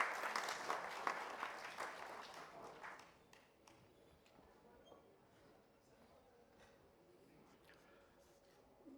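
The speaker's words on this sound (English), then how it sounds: "The awardees, I need to hear loud applauses from your end." Loud applause from the audience at a construction industry awards ceremony for the awardees, dense clapping for about three seconds that thins to a few scattered claps and room noise.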